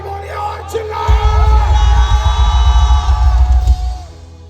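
A church congregation at a revival meeting in Ranchi erupts in loud, sustained shouting and yelling, a dense roar of voices that swells suddenly and holds for several seconds before fading.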